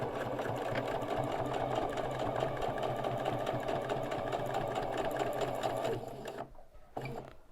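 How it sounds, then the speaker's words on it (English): Sewing machine stitching a fabric binding, a steady close rapid mechanical chatter that runs evenly, then stops and restarts briefly near the end. "I'm going to leave the needle down and I'm going to sew."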